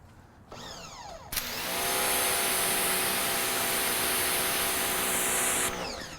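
A SunJoe electric pressure washer fitted with a 3.0 nozzle whines up as the motor starts, then holds a loud, steady spray hiss and motor drone for several seconds before winding down at the end.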